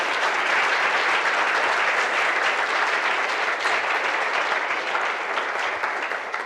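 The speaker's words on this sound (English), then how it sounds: "Yeah, you can applaud now and then we'll do Q&A." Keynote audience at a youth conference breaking into sustained, dense applause that stays loud and steady throughout, easing only slightly at the end.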